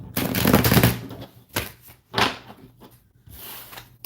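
Tarot cards are shuffled close up in a few quick riffling bursts, with short pauses between them.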